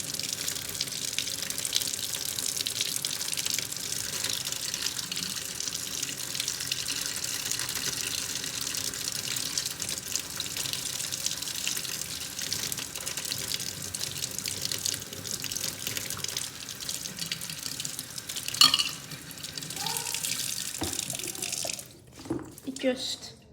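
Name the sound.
tap water running onto sponge for fish tank cleaning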